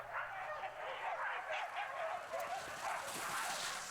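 Sled dogs bark and yip at an annual winter dog sled race on the west side of Priest Lake, Idaho, a busy chorus of overlapping barks at moderate distance.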